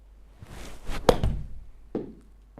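A golf club strikes a resin golf ball in a practice shot, one sharp impact knock amid a cluster of close thuds and rustles, followed by a softer second knock a moment later, with no talking.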